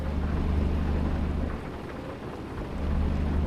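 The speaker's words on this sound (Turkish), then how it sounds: "Yağmurlu bir gün." Steady heavy rain with a deep rumble of thunder rolling underneath, dipping briefly in the middle before swelling again, in the video game Euro Truck Simulator 2; no voices.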